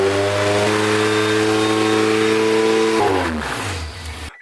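A Honda K24 engine in a 240 hatch project car runs at a steady, high revving idle. Its pitch then drops and the engine winds down, and it cuts off sharply near the end.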